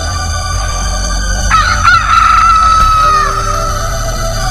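A chicken in a Bengali cartoon about a clever fox and a foolish hen gives a loud, close, rising crow in the middle of the clip over a steady background hum, with no talk.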